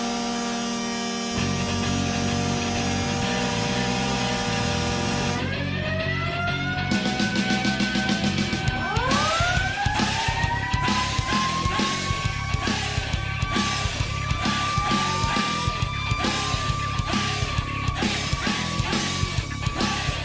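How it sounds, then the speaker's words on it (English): A goal celebration at Memorial Auditorium for the Kitchener Rangers hockey team: a long sustained horn blast, then rising siren-like tones and a loud, pounding, rhythmic music track with steady beats, filling the arena for the full span. "That is the sound you hear when the Kitchener Rangers score a goal on home ice at the Memorial Auditorium."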